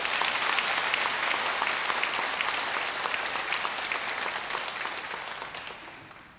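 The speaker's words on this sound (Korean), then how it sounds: "먼저 우리 환영의 박수 부탁드리겠습니다" Sustained applause from a large church congregation during Sunday Mass, dense and steady, slowly tapering off toward the end.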